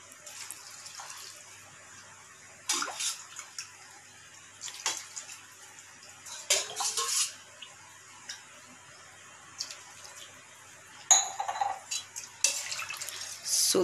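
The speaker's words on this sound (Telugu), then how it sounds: "3 గ్లాసెస్ వాటర్ పోస్తున్నాను" Water poured from glasses into rice in a pot for vegetable pulao, coming as several separate close splashing bursts between quiet pauses, with no talking.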